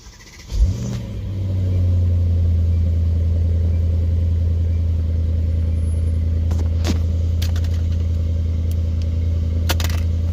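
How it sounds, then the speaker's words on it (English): A Mercedes-AMG car engine cranks and fires, flares briefly, then settles into a steady, deep idle that hums on close by, with a few faint clicks over it. "Okay, car's starting up."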